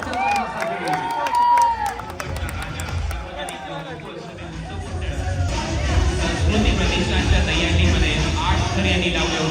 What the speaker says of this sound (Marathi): टाळ्या जरा जोरदार